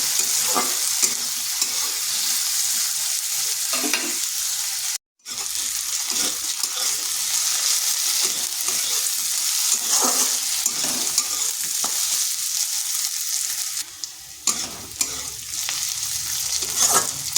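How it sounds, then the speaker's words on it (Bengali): Potato frying in a pan for a bitter gourd (korola) curry, a steady close sizzle broken by repeated stirring and scraping strokes, with one brief silent gap partway through and no talking. "আলুটাকেও হালকা ভেজে নিয়েছি।"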